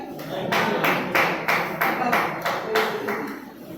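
An audience at an RCM business talk claps in a rhythmic unison beat, about eight even strikes in a steady pulse, fairly close and loud, with a voice faintly underneath.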